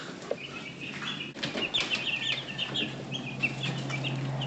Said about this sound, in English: Got another batch of meat birds here in the water trough brooder.